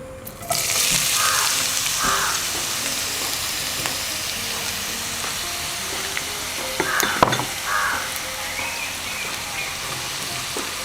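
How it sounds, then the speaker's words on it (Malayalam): Thinly sliced onions drop into hot ghee for a Kerala-style chicken curry and burst into a loud, steady, close sizzle. The sizzle carries on throughout, with brief stirring clatter partway through. "നന്നായിട്ട് നെയ്യ് ചൂടായിട്ടുണ്ട്. ഇതിലേക്ക് നമുക്ക് സവോള ചേർത്ത് കൊടുക്കാം."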